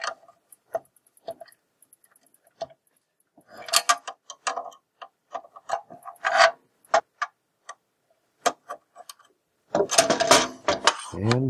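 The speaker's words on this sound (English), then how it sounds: "Tighten up on these nuts." Nuts are tightened while installing an AC power supply, giving intermittent small scraping, clicking and ratcheting sounds in a quiet room, with a denser burst of rubbing near the end.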